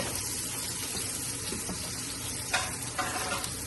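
Ginger with onions fries in a pan ahead of mussels going in, a steady close sizzle and hiss throughout, broken by a few louder stirring scrapes and clatters toward the end, with no talk.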